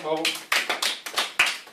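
A man clapping his own hands in a lecture hall, several sharp separate claps in quick succession, close and clear, following a brief voice at the start.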